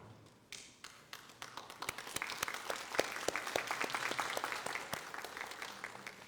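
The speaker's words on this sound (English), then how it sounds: "let's give them a round of applause." A crowd of families and graduates applauds at a social work graduation pinning ceremony, scattered claps starting sparse and swelling into steady, fairly distant applause filling the hall.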